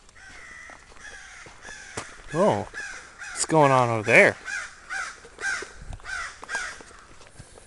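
Several crows cawing nearby in harsh, repeated bursts of calls, loud and close, while a person walking outdoors talks.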